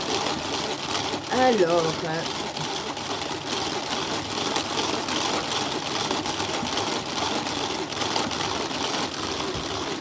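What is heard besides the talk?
whipping crème fraîche with a Tupperware mixer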